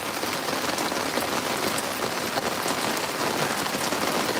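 Heavy rain drumming on a boat, a dense close patter of drops hitting the surfaces in an unbroken steady roar, with no voices.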